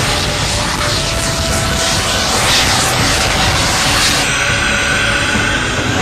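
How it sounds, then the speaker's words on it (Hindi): A jet-powered flying hoverboard tested in June 2016 on France's Atlantic coast makes a steady, loud, roaring turbine whine that runs unbroken throughout. "जून 2016 में फ्रैंकी जपाटा ने जेट पावर्ड फ्लाइंग हॉवरबोर्ड का टेस्ट किया"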